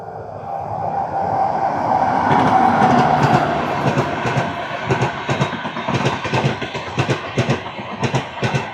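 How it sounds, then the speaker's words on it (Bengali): A train rolls past nearby, first a rising rumble and then a long run of rhythmic clickety-clack wheel beats over the rail joints, loud and continuous. "তো সামনে দিয়ে কিন্তু একটা ট্রেন আসছে, দেখি।"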